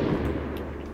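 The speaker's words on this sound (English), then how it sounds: "The epic firework that just went off?" A firework bursts in the Roblox game Lumber Tycoon 2, a loud, broad rumbling boom that fills the whole moment and slowly tails off.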